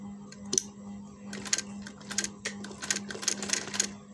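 A sewing machine stitches along the edge of a square neckline over buckram in short, uneven bursts of rapid clattering, close by over a steady low motor hum, with no talk.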